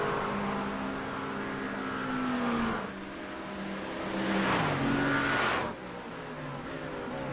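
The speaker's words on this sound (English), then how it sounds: "Let's see what kind of speeds the twin-turbo McLaren is getting" A twin-turbo McLaren GT3 race car in a racing game at Imola, its engine revving hard through repeated upshifts and downshifts, loud and close with rising and falling pitch.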